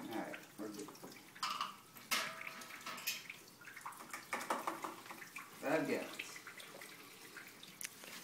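Belgian tripel wort gushes and splashes into a five-gallon primary fermenter, a rushing, uneven pour with surges, while people talk over it.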